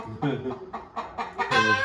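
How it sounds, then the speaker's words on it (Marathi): A rooster crows briefly at close range in a Konkan village, its call mixed with a person talking nearby. "तो कोंबडा बोलतोय मला ब्लॉगमध्ये घ्या"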